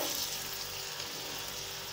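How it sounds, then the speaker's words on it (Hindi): Chopped garlic and ginger fry in hot oil over high heat, giving a soft, continuous sizzle with no voices over it. "चॉप्ड गार्लिक और जिंजर, और ज़रा ये हाई हीट पे पकता है"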